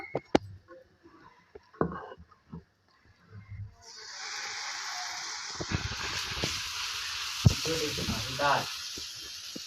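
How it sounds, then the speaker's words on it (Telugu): Plain dosa batter is poured onto a hot pan. Scattered clinks and clatters come first, then about four seconds in a loud hissing sizzle starts and holds steady, broken by a few utensil knocks. "ఇప్పుడైతే దోశ చేస్తున్నా"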